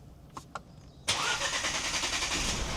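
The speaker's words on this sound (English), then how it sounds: "So let's check if the car is actually gonna start." A Mercedes A-Class, repaired after a crash and with its crash sensor reset, cranks briefly after a few clicks, then its engine catches and settles into a loud, steady idle nearby.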